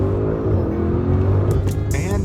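A 2021 Audi SQ7 accelerating under power gives a steady, rising engine drone heard from inside the car, with faint speech in the background.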